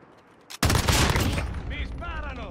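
Sudden burst of rapid gunfire in Call of Duty: Modern Warfare, loud and dense, continuing for about two seconds, with brief electronic tones near the end.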